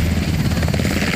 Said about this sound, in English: the Army's frontline helicopter takes flight.